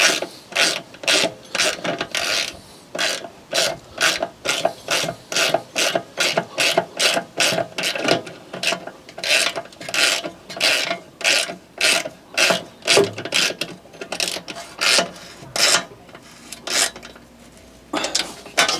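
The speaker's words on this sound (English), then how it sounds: "So you can't get a socket on these, but the old ratchet spanner" Ratchet spanner clicking steadily as bolts are done up on a Fiat 500 where a socket won't fit, rapid close metallic ticks in repeated bursts with short pauses, no talking.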